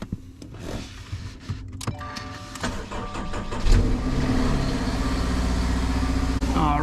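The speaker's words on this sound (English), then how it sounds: "So I'm going to go ahead and start the car." A 2022 Subaru Forester Wilderness Edition cranks with a few clicks and whirs, catches, and settles into a steady, loud idle with a continuous low drone.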